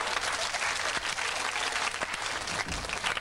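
A Japanese TV studio audience claps together in a dense, steady wash of hand claps that fills the whole stretch at moderate loudness, with no voices over it.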